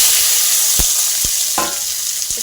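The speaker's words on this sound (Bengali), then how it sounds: "তো পেঁয়াজগুলোকে ভালো করে একটু ভেজে নিব" Onions fry in hot oil in a pan after fish, giving a steady bright sizzle broken by a few soft knocks and stirring scrapes close by.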